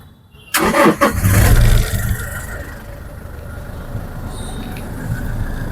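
A Toyota Fortuner Legender 4x2 automatic's engine cranks and catches with a loud burst, briefly revs, then settles into a steady, moderately loud idle.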